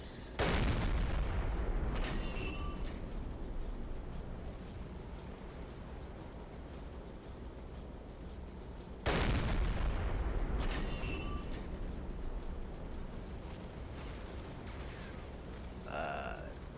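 Two heavy booms from a submarine deck gun firing 105mm HE shells in Silent Hunter 3, each a loud sharp blast with a long rolling decay, about nine seconds apart over steady sea and engine ambience.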